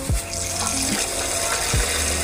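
Tap water runs steadily into a sink while food ingredients are washed, with a continuous splashing flow and a few brief low knocks. No one speaks.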